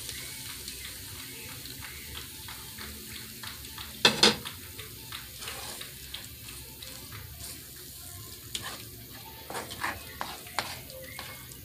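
Homemade salsa poured into a frying pan of browning ground meat, a soft pouring splash with one brief louder splatter, followed by gentle sizzling and stirring scrapes at close range.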